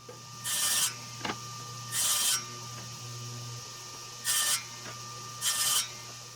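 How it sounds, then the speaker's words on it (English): Router or saw passes cutting dados into the underside of a 1/2-inch plywood top, four separate bursts of bright rasping cutting over a steady low motor hum, no talking. "that's cutting dados in the underside of the top for the 2 side panels"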